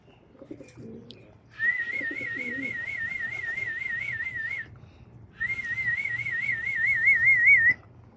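A person whistles two long, warbling, wavering calls to summon pet pigeons, with soft low cooing just before the first whistle.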